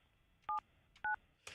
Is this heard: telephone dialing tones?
yes